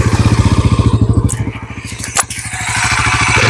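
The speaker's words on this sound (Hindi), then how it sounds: "जो आपको सुनाते हैं इसका एग्जॉस्ट नोट भी" A Bajaj Pulsar NS400Z motorcycle idles close by with a deep, rapid, pulsing exhaust thump, then the engine rises into a steadier, smoother drone.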